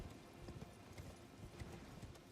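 Hooves of Torrent, the spectral steed in Elden Ring, clip-clop in a steady, fairly quick gallop rhythm at close range, standing alone with no voice over it.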